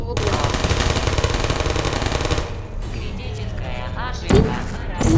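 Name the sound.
turret firing in Portal video game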